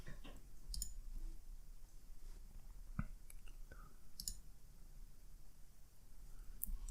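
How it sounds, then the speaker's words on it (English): A computer mouse clicks a few times to refresh an online store's web page, the clicks quiet and sparse over a low steady room hiss. "I'll just click refresh a couple times"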